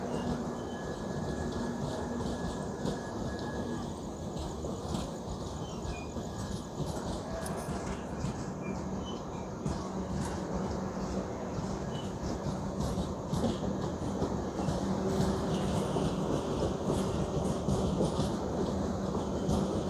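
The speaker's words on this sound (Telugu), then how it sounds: "అండ్ ట్రైన్ కూడా ప్యాక్ నడుస్తుంది, ఫుల్ ఉన్నారు ట్రైన్లో." A crowded 18-coach express passenger train rumbles steadily along the tracks, a continuous loud roar with faint rhythmic clatter throughout, no voices standing out.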